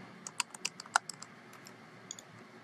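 About a dozen crisp, close computer keyboard keystrokes tap out in an uneven rhythm, with a short pause before a final pair, against a quiet room.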